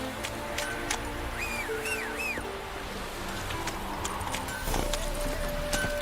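Hooves of Geralt's horse Roach pound along at a gallop in The Witcher 3, a steady clip-clop over ambient game sound, with a brief whistling tone early on and no speech.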